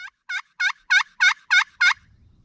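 A wild turkey gobbles seven times, loud and rapid, evenly spaced, ringing out clearly, followed by a faint low rumble at the end.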